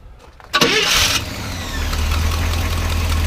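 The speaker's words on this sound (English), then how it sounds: "Why don't we go ahead and start it up." A 1975 International Harvester engine cranks with a brief starter whine, catches, and settles into a loud, close, steady rumbling idle.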